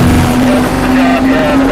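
A helicopter approaches in a video game, its rotor and engine making a loud, steady droning hum with a constant tone throughout, close and dominant, with game voices around it.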